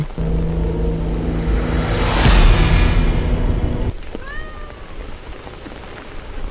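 A black cat meows a couple of times, rising and falling, over steady rain and a low rumble, with a brief louder swell of noise before the meows.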